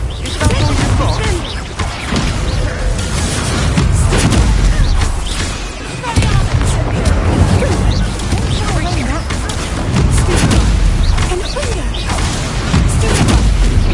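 Repeated fiery spell blasts and booming impacts from the Confringo explosion spell in the game Hogwarts Legacy, dense and loud across the whole stretch, with thuds and crashes stacking over a rumbling low end amid continuous combat noise.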